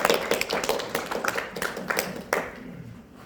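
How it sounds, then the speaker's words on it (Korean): Audience at a Korean Autodesk licensing seminar in Cheonan claps for an incoming presenter, a scattered, uneven patter of hands near the start that thins out over a few seconds, with no talk. "큰 박수 부탁드리겠습니다."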